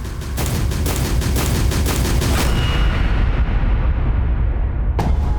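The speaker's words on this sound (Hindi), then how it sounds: "अभी अभी स्कूल के अंदर से गोली चलने की आवाज आई है।" Gunfire inside a school: a rapid, loud volley of sharp shots rattles off close together for a couple of seconds, fades into a ringing tail, then one more crack lands near the end.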